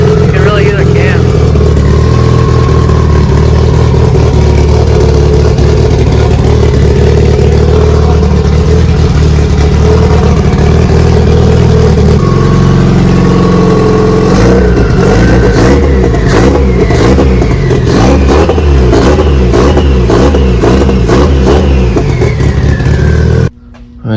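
A turbocharged car engine idles loud and close after starting, its lumpy cams clattering steadily, then revs in a rapid series of sharp blips before cutting off at the end.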